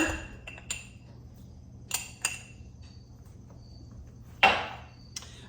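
A metal measuring spoon clinks against a container while black pepper goes into homemade pizza sauce, a few sharp light taps scattered over quiet, then one brighter scrape-clink near the end.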